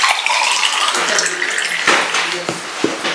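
Water is poured into a container for a float test with thermocol packing sheets, a steady splashing pour running throughout, close and fairly loud, with a few brief knocks and clinks near the end.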